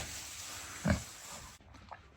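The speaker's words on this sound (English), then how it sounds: "Big pig." A big pig, one of a group around a sow in labour, gives a single short, close grunt amid low background noise, with no talk over it.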